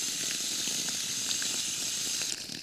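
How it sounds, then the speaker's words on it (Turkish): Water poured steadily onto freshly fertilized soil in a home garden, making a continuous close splashing and trickling hiss that eases off near the end. "Onun üzerine biraz su dökmek istiyorum."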